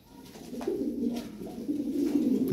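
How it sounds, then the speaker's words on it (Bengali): Lahori pigeons coo in low, throaty, rolling calls that rise and fall among faint background noise, in two main bursts with no talking. "দেখো আনকমন কবুতর ভাই, রেয়ার"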